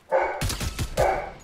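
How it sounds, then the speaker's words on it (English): A dog barks close by, three or four sharp barks in quick succession with a higher yelping tone at the start and end, loud and alone without talk. "And my dog's barking."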